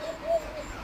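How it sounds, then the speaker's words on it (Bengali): A pair of Koka pigeons gives a brief, soft, thin-voiced coo in short tonal bursts, close but quiet. "আপনি দেখতেই পাচ্ছেন একজোড়া কোকা কবুতর কতটা সুন্দর করে ডাকাডাকি করে তারা"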